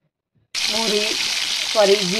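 Cumin seeds sizzle loudly in hot oil in a kadhai for tempering, a sudden dense frying hiss that starts abruptly and holds steady, with faint tonal squeaks of stirring partway through.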